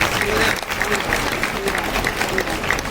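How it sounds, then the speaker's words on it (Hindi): Applause from an audience at a Ram Katha religious discourse gathering, steady and loud for about three seconds, with faint voices audible beneath the clapping. "एक बार बोरा जी का स्वागत जोरदार तालियों के साथ होना चाहिए।"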